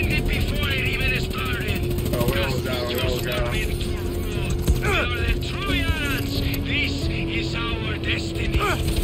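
Helicopter in the video game Far Cry 6, a steady low engine and rotor drone running under continuous talking for the whole stretch.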